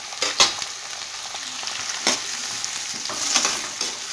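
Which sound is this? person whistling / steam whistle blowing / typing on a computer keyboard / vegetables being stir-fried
vegetables being stir-fried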